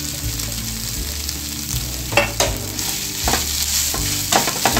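Onions and boiled potatoes sizzle steadily in a hot pan, with a constant frying hiss broken by periodic scraping strokes of a spoon stirring the mix, close and without talk.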